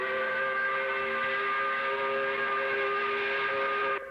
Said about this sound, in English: We put the spotlight on it by blowing the 5 o'clock whistle.